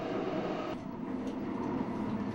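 Steady rumbling roar of a subway train in motion, a continuous close interior rolling noise with no break, no talk heard.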